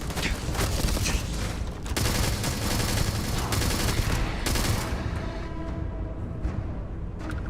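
Gunfire from a gun in Starfield, rapid bursts of shots rattling close and loud for several seconds before easing into quieter mechanical clicks and a fading tail.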